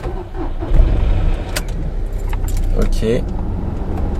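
Keys jangle as a car is started, with a car motor running underneath and someone talking over it at close range.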